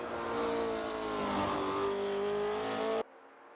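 Classic GT race car engines at Silverstone in Assetto Corsa, a loud sustained engine drone with a steady high whine holding for about three seconds before cutting off abruptly.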